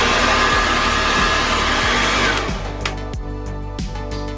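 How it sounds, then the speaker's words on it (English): A Philips HP8230 ThermoProtect 2100W hair dryer running, a loud close steady blowing whine that drops in pitch and airflow partway through, followed by a lower hum with a few clicks. "this is a very powerful hairdryer"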